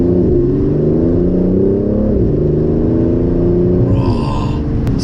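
An Aston Martin DB11 accelerates hard from the driver's seat, its engine droning loud and steady with rising pitch sweeps between gear changes, no voices over the cabin roar.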